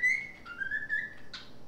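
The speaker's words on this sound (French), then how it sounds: "Nous siffle la famille Adam, c'est maintenant." A person whistles The Addams Family theme, a few clear, close pitched notes gliding between tones, with a sharper final note and a quiet background.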